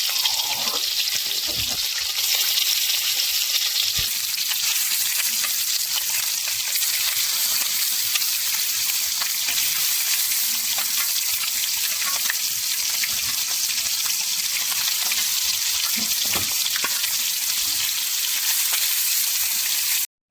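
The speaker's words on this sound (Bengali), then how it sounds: "মাছগুলো আস্তে আস্তে ভাজা হোক হালকা হালকা করে ভাজা লাল লাল হয়ে গেছে" Rui fish from the river frying slowly in hot oil in a pan, a steady dense sizzle throughout with faint stirring and a few soft knocks, no voices.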